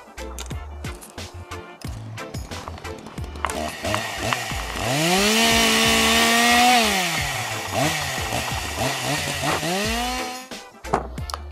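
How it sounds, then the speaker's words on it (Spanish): A hand saw cuts through the trunk below an elm air layer with steady back-and-forth rasping strokes that rise and fall in pitch, loud and close, continuing for most of the span before stopping. "Ponemos el serrucho por debajo del acodo y cortamos."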